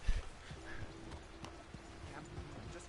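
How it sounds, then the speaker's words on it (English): Horse hooves clip-clop steadily in Red Dead Online as a rider trots along, a regular rhythmic beat over quiet game ambience, with a brief whinny-like sound and a low thump near the start. "I was just troppling along with my horse in cinematic mode"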